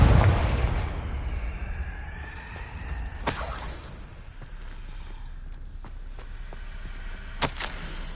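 Spell blasts from Bombarda and Confringo in the Hogwarts Legacy video game on PS5: a heavy boom fading out, then sharp crackling bursts and a few shattering impacts at varying distance over low rumble.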